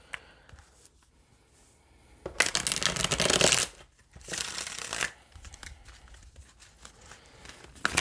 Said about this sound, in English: I'm going to draw 3 cards from the Radiant Waite deck to clarify the entire reading.